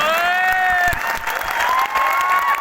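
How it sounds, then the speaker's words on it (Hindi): A large crowd claps continuously in an indoor stadium at a big event, loud, dense applause overlapped by an amplified voice calling out over a public address system. "अब तक की सबसे जोरदार ताली"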